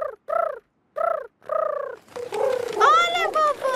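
A cartoon piglet voice imitating a pigeon with short, repeated cooing calls, four quick tonal hoots, followed by the clutter of a few overlapping animated voices and bird-like chirps.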